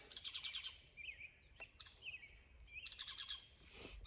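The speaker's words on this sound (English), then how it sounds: "Gotta love springtime, all the birds out." Spring birdsong rings out in bursts of trills and high chirps, fairly clear against a quiet outdoor background.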